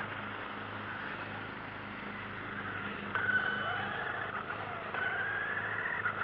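A Traxxas E-Revo brushless RC car drives along a road, its electric motor giving a faint high whine that rises in short bursts as it speeds up, with steady background noise around it.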